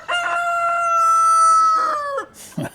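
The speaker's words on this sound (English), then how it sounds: "that's his roosters" A rooster crows once, loud and close, a long drawn-out call lasting about two seconds, followed by a short rustle.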